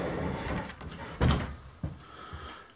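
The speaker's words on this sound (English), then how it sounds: "It is a pocket door, so this slides open" A four-panel pocket door in a 14x40 tiny house slides open to the full bath, with a rolling scrape and a soft thud near the middle, heard close with no talk.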